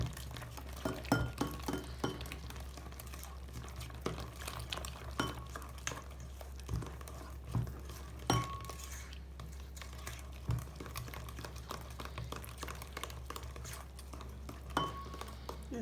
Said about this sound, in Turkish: Biraz da bununla karıştıralım böyle